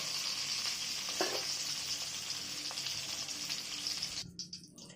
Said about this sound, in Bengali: পটলগুলো আমি আবার একটু ভেজে দেবো তেলে